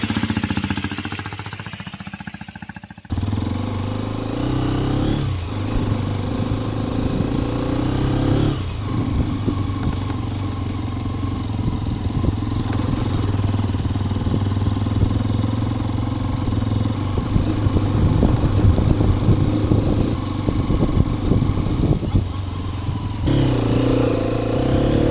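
A Hero Xpulse 210 motorcycle rides along steadily, its engine droning loud and close with wind rush on a ride around Sakleshpura, pitch rising and falling slightly as it goes, no talking.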